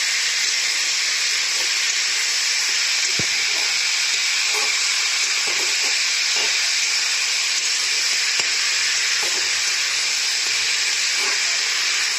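Fish curry being stirred as it fries in a pan, a loud continuous steamy hiss and sizzle with occasional soft utensil taps, no talking.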